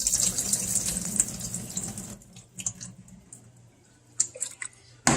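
Running tap water splashes over chicken bones being rinsed in a sink, a steady close hiss that thins out partway through, with scattered drips and splashes afterward.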